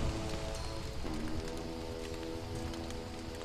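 Rain falls in the video game Don't Starve, a steady close patter of drops over faint tonal game music, with no voices.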